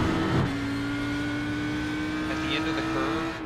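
A car driven hard through a curve holds a steady engine drone at close range, with someone talking over it throughout.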